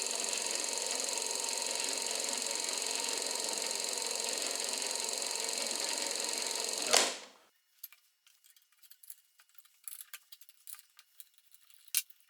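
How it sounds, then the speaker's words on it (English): A Wen thickness planer's feed motor runs steadily and fairly loud for about seven seconds, then cuts off abruptly, leaving faint scattered clicks and handling noises. "For reference, again, here's the sound of the motor."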